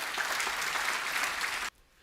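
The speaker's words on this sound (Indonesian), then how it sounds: "Tepuk tangan untuk kebenaran ini." An audience at a church sermon on marriage breaks into dense, loud applause that fills the room and then cuts off abruptly.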